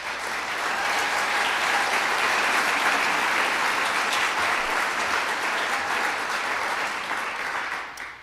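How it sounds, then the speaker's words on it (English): Sustained audience applause at a preparators conference welcome session, a dense even wash of many hands clapping that holds steady for about eight seconds before tapering off at the end. "I think we need to give Mark Wameling and Jerry Smith a round of applause"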